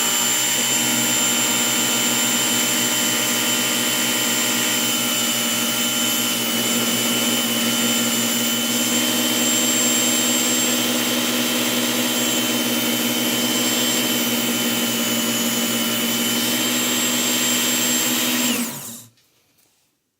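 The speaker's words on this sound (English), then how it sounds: "I'm going to run this knife real quick. I'm going to make 2 quick passes on either side." A 1/2 x 12 inch leather honing belt strop machine runs with a loud, steady motor whine and hum while a knife is stropped against the belt, then the motor cuts off abruptly near the end.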